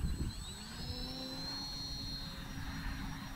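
An FT Freedom Fox V2 RC airplane takes off toward a highway, its electric motor a steady whine with rising tones over a constant outdoor rumble, no talk.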